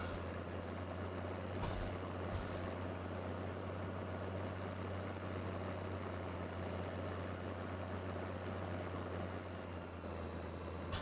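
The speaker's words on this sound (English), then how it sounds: "There's the aeroplane." An aeroplane in Farming Simulator 2015 drones steadily with a low engine hum throughout, constant and fairly loud, with a couple of brief clicks early on and no talking.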